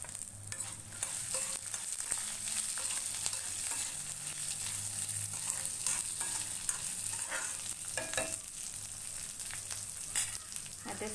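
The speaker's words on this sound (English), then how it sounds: "Now I'm adding few garlic cloves and little bit of onion." Garlic cloves and onion fry in a pan for a South Indian onion sambar, giving a steady close sizzle with a stirring spatula scraping through it, and no talk.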